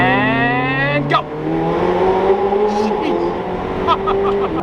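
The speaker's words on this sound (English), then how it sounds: "When those turbos spool up, it is a next level experience" A McLaren Senna hypercar accelerates hard, its turbocharged engine rising in pitch through the gears with a sharp downshift blip midway, loud and close. Voices talk over the engine.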